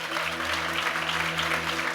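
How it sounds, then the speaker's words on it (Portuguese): A church auditorium audience on its feet applauds a guest, a dense, even wash of clapping with a low steady hum beneath, loud and continuous for a couple of seconds. "Você pode aplaudir? Aplaude ele aqui em nome de Jesus."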